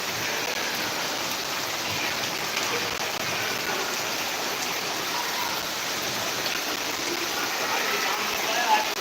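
Heavy rain pours down steadily onto a flooded road, a dense, continuous wash of droplets hitting water and hard surfaces, loud and unbroken from start to finish.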